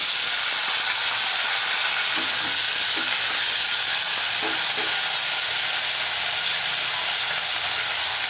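Chopped onions fry in a pan for a Telugu dried black-eyed pea curry, giving a steady broadband sizzle and hiss throughout with a few soft stirring scrapes near the start, no voices.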